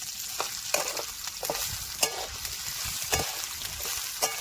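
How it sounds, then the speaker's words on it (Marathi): Bombay duck fish fry in oil with a dense, hissing sizzle, broken every half second or so by sharp scraping and clacking stirring strokes, close up and loud, with no talking. "आता बोंबिले तळून घ्यायचं"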